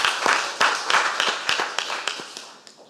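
Applause from a church congregation during a Sunday worship service, given for the young people of the church; sparse, distinct hand claps from a modest group, close by and steady, then thinning out toward the end.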